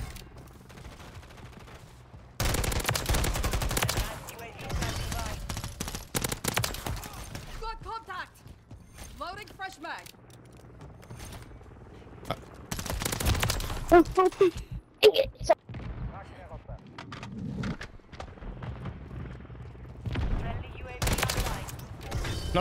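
Bursts of automatic SVA 545 rifle fire in Modern Warfare 3 multiplayer come in several rapid volleys, loud and close, with a player talking at times between them.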